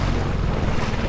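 Strong wind buffets the microphone on open water aboard an Ascend 133x boat with a Mercury 6hp outboard, a steady loud rumbling roar with broadband gusty noise and no speech.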